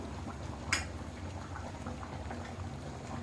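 Goat head curry simmering in a cooking pot: a steady, soft bubbling hiss throughout, with one brief sharp clink early on and no speech.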